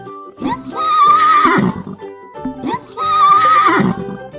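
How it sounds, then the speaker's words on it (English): A horse neighs twice, each whinny loud and close with a high quavering cry that falls away, separated by a brief pause, heard alone as a farm animal sound. "Horse."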